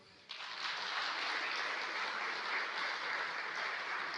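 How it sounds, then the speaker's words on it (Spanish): A church congregation breaks into sustained applause in a large hall, starting abruptly and holding steady and loud to the end, with no talking over it. "A ver, denle un aplauso."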